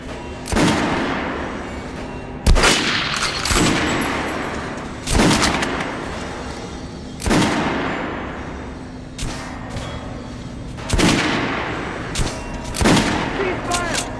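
Soldiers in Metro: Last Light fire their guns on command in loud, sharp volleys that come roughly every one to two seconds, each crack followed by a rumbling echo and decay, with faint voices in between.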